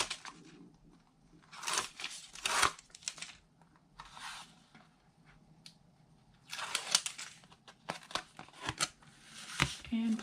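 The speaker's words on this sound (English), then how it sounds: "remove this tape" Double-sided tape peeled from its backing on a paper-craft chalkboard notepad: several short crisp rips and crinkly strips in separate bursts, close and fairly quiet.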